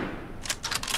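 A single gunshot, a headshot in The Last of Us, cracks sharply with a few short bursts of noise that follow, with no talk.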